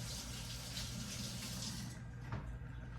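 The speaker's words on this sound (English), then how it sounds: "Let me wash my hands." Tap water runs in a home country kitchen as hands are washed under it, a quiet, steady stream with a brief splash near the end.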